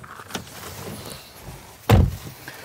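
The aluminium door of a 2023 Renault Megane E-Tech electric car slams shut in one loud, close, heavy thud after a faint earlier click.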